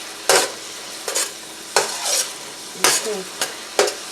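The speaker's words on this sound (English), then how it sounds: "These onions are beginning to get translucent." Onions sautéing in a large pot for a corn chowder, with a spoon scraping and stirring in several separate bursts over a low sizzle; a brief spoken word comes in once.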